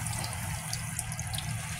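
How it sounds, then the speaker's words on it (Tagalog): Water poured into a pan of cooking meat for stir-fried bottle gourd with black fungus, a steady close splashing trickle with a low background hum, no talking. "Lagyan natin siya ng tubig."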